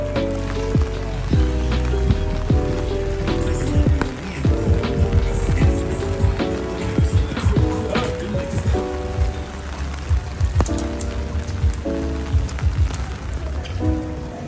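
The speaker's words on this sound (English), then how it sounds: "Oh, it's raining so hard." Heavy rain pours in a steady, dense patter with scattered sharper drops, while music plays along underneath throughout.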